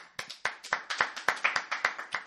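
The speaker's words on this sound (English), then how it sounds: "Thank you for the applause." A single person claps alone, about a dozen close, sharp claps in a steady rhythm over roughly two seconds, with no talk.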